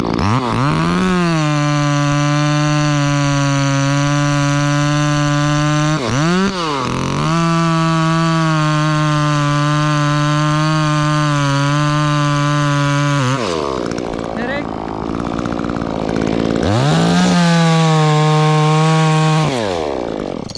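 A chainsaw makes a face cut in a pine tree, running loud and close with sustained high revving, brief dips in engine pitch, and a longer lull before it roars back up.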